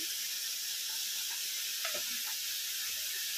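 Food sautéing with spices in a pan, a steady soft sizzle and hiss running throughout at low volume, with a few faint scrapes of stirring near the middle.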